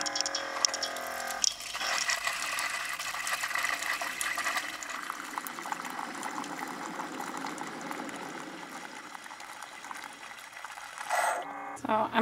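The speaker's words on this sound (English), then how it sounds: "Since water's coming out, I know it'll mix together" A Keurig brewer pours hot water into a cup of powdered vegan soup, a steady hissing, gurgling stream with machine hum that runs about ten seconds before the flow cuts off and the brewer clicks and sputters.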